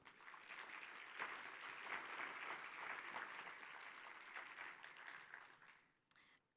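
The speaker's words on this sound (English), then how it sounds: "Let's give him another round of applause." A conference audience gives another round of applause at a closing speech, a full, even clatter of clapping that fades out near the end, followed by a single brief knock.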